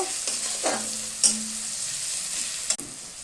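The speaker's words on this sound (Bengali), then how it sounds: "লঙ্কা গুঁড়ো দিলাম, জিরের গুঁড়া একসাথে মিক্স করব।" Onions, ginger, garlic and spices fry in a pan as they are stirred together, a steady close sizzle with a couple of sharper scraping clinks from the utensil, no voices.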